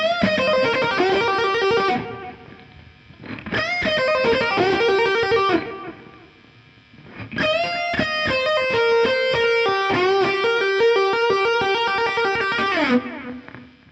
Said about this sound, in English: you could come up with shreddy blues licks that sound like this